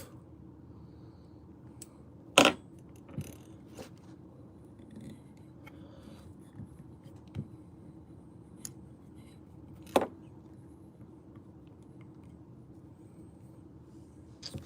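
Scissors trim material for tying hair jigs in a few sparse, sharp snips up close, mostly isolated clicks over a quiet background with a couple of louder cuts.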